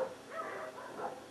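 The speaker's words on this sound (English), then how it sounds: "Excuse the dogs, we're on a farm, so there's many dogs outside" Several farm dogs barking and yipping outdoors, a few overlapping barks spread across a short stretch at moderate distance with a steady background.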